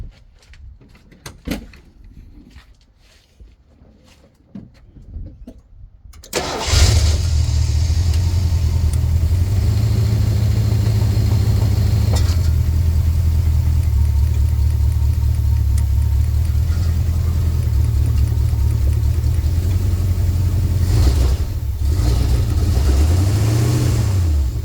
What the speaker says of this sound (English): I'll fire her up real quick and back her down off the stands